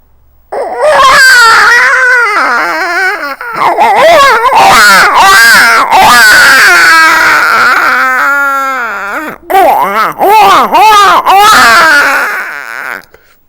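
A person vocally imitates a baby crying with loud, wavering wails, then breaks into imitated dog sounds, all done in close succession.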